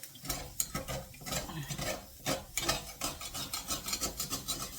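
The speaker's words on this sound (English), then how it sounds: "The cheese has totally browned to my pan, and we're not wasting that, so I'm just scraping it off my pan" A utensil scrapes browned cheese off a pan in repeated rough, rasping strokes with brief pauses, close and moderately quiet.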